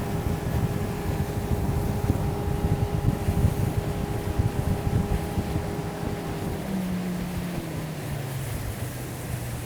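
A Yamaha F60 outboard, converted from an F50, runs at high revs driving a boat. It makes a steady droning whine with wind and water noise, and its pitch drops slightly near the end.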